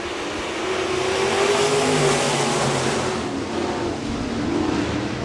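A pack of B-modified race cars roars away at the start of a heat race at Park Jefferson Speedway, a loud, dense engine drone that swells and holds, rising in pitch as the field accelerates, with no voices.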